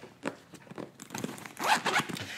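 Heavy-duty zipper on a Klein Tradesman Pro contractor's tool backpack being pulled open, a run of quick raspy zipping strokes that grows louder toward the end, close and alone with no talk.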